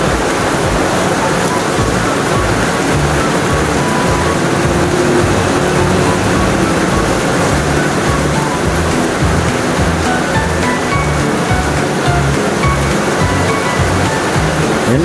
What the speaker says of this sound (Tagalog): grabe po ang lakas ng ulan, grabe po ang buhos ng ulan sa bubong